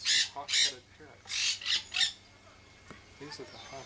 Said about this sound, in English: These are the hawk-headed parrots.